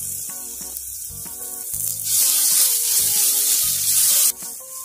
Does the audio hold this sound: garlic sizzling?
yes